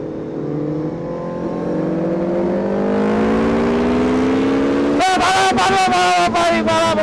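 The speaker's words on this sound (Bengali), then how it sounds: "এই মোটা আমার হায়াবুসা চালাচ্ছে, দেখি আমার হায়াবুসা কিরকম লাগে সাইড দিয়ে দেখতে" A Suzuki Hayabusa 1300 motorcycle revs with rising pitch as it rides past, then roars loudly and close with choppy gear-shift bursts.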